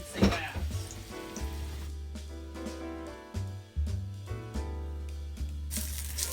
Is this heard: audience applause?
no